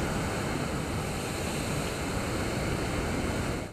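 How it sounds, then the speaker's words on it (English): Ocean surf pounds the Venice jetties during stormy weather, a loud continuous roar of crashing waves and wind with no pauses. "Waves crashing higher"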